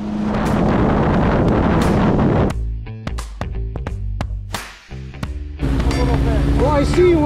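A Kawasaki Ultra LX 160 jet ski running fast on open water, loud engine roar and wind buffeting that drops to a rougher, choppier idle in the middle before surging back up, with a voice speaking over it.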